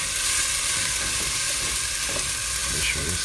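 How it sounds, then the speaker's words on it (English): Chopped vegetables and seasoning sauté in hot oil in a pan with a dense, steady hiss and crackle, with occasional soft stirring and utensil sounds nearby. "Sauteing our vegetables."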